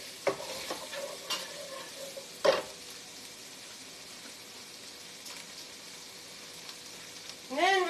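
Onion added to a hot pan crackles and sizzles at low-to-moderate volume, with a sharper clatter of stirring near the middle and a brief sweep of another noise at the end.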